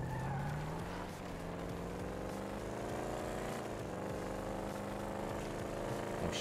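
Engine of the Bumblebee Chevrolet Camaro in GTA 5 droning loud and steady as it accelerates, the pitch climbing and holding with a faint tyre skid, no talk.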